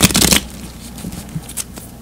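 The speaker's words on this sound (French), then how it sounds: "Je continue à brasser les cartes encore un petit peu." Tarot cards are shuffled close up, a brief burst of rapid riffling flutter followed by softer scattered card taps.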